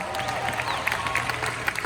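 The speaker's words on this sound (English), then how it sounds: "let's give that a huge round of applause" An audience at a product award presentation applauds, a brisk crackle of many hands clapping with a few louder claps standing out, moderately close and with no speech over it.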